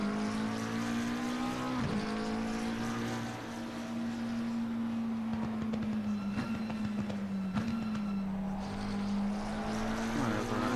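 A McLaren 720S Evo race car engine drones at a steady high pitch, loud and continuous, with brief dips and rev shifts as the car runs on, in the game Assetto Corsa Competizione at Bathurst.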